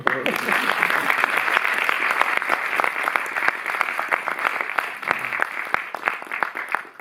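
Audience applause at the Cinémathèque in Paris greeting director Bruno Nuytten before a screening of Les Enfants, a full room of clapping that thins to distinct individual claps toward the end, with some voices under it.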